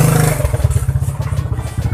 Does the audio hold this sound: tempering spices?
no